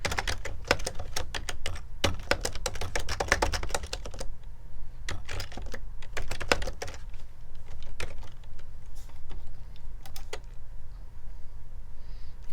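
Computer keyboard typing in bursts of rapid clicking keystrokes, close and fairly loud, with short pauses and slower isolated taps toward the end.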